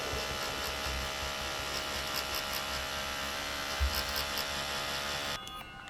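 A cheap tattoo machine from Amazon runs steadily with a liner needle fitted, giving a continuous electric buzz and hum at close range that drops off abruptly near the end.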